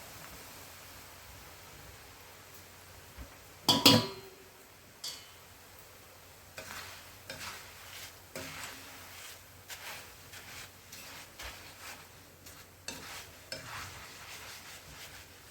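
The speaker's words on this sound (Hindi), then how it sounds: "तेल गरम हो चुका है, थोड़ा थोड़ा पोहा डाल के हम इसे फ्राई कर लेते हैं।" Poha is deep-fried in hot oil for chivda: a sharp crackle as it goes in, then a faint, uneven sizzle with scattered stirring clicks.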